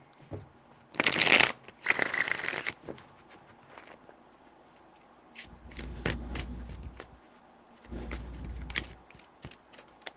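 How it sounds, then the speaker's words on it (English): A deck of tarot cards gets shuffled by hand in several close, crisp riffling bursts, the first two sharp and bright, later ones duller with soft thumps, separated by brief quiet handling. "Three shuffles."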